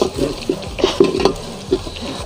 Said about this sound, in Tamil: கொஞ்சம் வதக்கணும், அது ரொம்ப முக்கியம்.